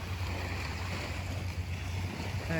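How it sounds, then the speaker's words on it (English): Sea waves wash steadily onto Negril beach in Jamaica, a continuous near roar of surf with a low rumble underneath and no voices. "You're just taking in the sea waves and the calm atmosphere"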